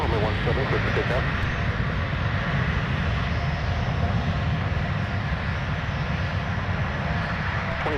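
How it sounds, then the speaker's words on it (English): A Delta Airbus A220-100 jet at MSP airport gives a steady, continuous engine roar at moderate distance that holds level for the whole stretch. "And Delta showing up with the Airbus A220-100 from Milwaukee Mitchell"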